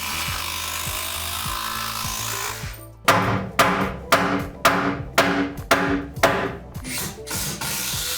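Hand saw cutting a wooden floor beam during a room-addition remodel, about ten rhythmic push strokes after a quieter stretch of shop noise, close and fairly loud.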